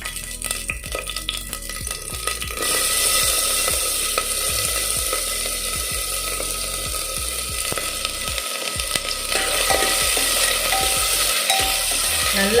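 Onions frying in melted ghee, starting with rhythmic stirring clicks and then turning into a loud, dense, steady sizzle close up, with no voices.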